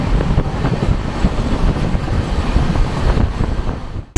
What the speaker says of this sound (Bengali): উল্টো দিক থেকেই আসছে 22304 গয়া হাওড়া বন্দে ভারত এক্সপ্রেস